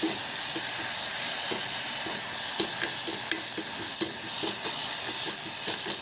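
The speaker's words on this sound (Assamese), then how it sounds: "তিলখিনি দি লৈ কিছু সময় ভাজি ল'ম।" Sesame seeds sizzle and crackle steadily in a hot pan over very low heat, with soft popping and occasional stirring scrapes throughout.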